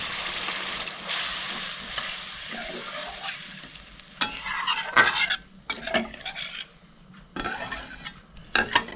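A spice paste frying in a pan gets a splash of water and is stirred, giving a loud sizzle, steady spoon scraping and a few sharp clinks of metal against the pan, with no voices.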